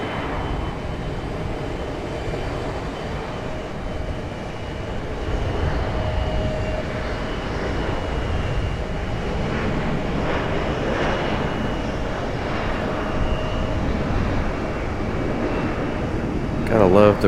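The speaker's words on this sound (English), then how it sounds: "Our Delta CRJ finally getting a move on out of our space." A Delta CRJ regional jet accelerates on a wet runway at Raleigh-Durham International, making a steady, loud jet engine roar mixed with the hiss of water spray that lasts throughout, heard from nearby.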